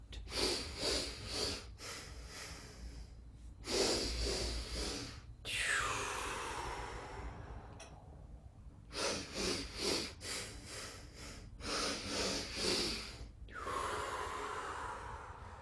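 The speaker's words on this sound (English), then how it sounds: "adding some breath pumping, taking the breath in, out, in, out" Rhythmic breath pumping during a yoga breathing exercise: quick forceful sniffs and exhales in close repeated bursts, grouped into several clusters separated by pauses and a longer drawn sigh, close-miked and breathy.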